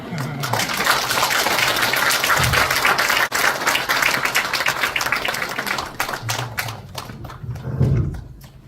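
Sustained applause from an audience at a Korea–Denmark peace education forum in Pocheon follows a lecture, a thick wash of claps that swells and slowly thins, with a voice surfacing briefly underneath.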